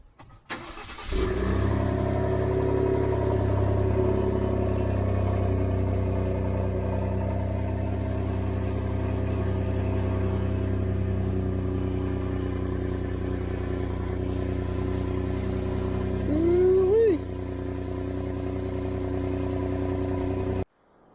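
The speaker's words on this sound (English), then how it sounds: "let's get a cold start on the truck. See what it sounds like" A Ford F-150 EcoBoost truck starts cold, then settles into a loud, steady idle close by, with a brief rev near the end.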